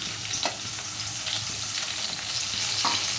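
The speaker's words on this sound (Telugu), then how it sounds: "ఆనియన్స్ ఆయిల్లో ఫ్రై అయిపోయిందండి." Onions and tomato frying in oil for ragi upma, a steady crackling sizzle with occasional stirring scrapes, close and moderately quiet, no talk.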